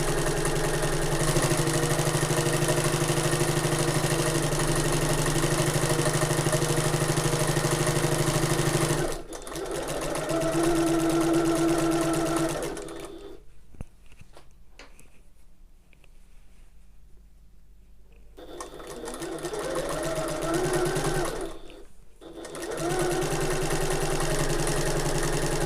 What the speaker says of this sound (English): just sewing 1/4 inch away from the edge.